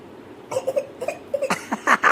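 A young girl coughs close by in several short, uneven bursts, a few of them with a raspy, throaty edge.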